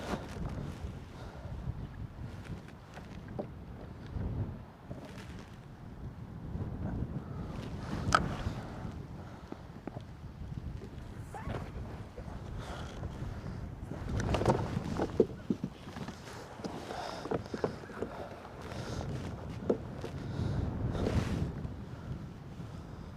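Cold, gusting wind buffets a fishing boat on open water while catfishing, a steady broadband rush with stronger gusts, close to the microphone, and no talking.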